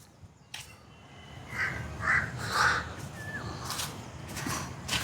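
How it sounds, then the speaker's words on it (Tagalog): Several crows caw in a short cluster of harsh calls at moderate distance over a steady, low outdoor background, with no one talking. "Daming uwak."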